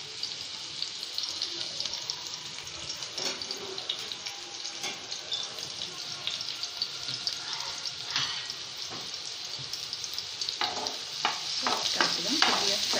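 Chopped onion and green chili frying in oil for veg manchurian, a steady hiss of sizzling with scattered stirring scrapes that grow busier toward the end.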